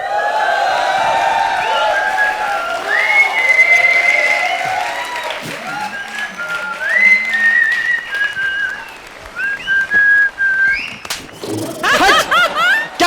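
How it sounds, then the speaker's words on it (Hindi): Audience at a comedy show whistling, with several long, clear whistles rising and wavering over applause, laughter and brief voices, louder bursts toward the end. "क्या सीटी बजा रहा है साले?"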